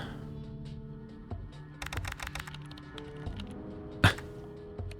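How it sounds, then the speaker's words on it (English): Typing sound effects in the Kathy Rain adventure game, with a quick burst of keyboard clicks and taps, close and clear, followed by a few scattered key presses and one sharper click. "I love that it plays sound effects of typing as I type."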